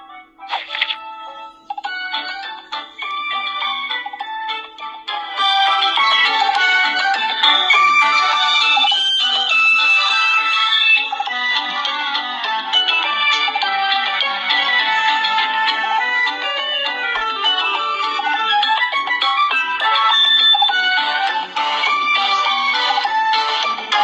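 Bright, busy Smurfs' Village game music plays loudly through the speaker of a DOOGEE Blade 10 Pro rugged phone, thin and trebly with no bass, running continuously for about twenty seconds.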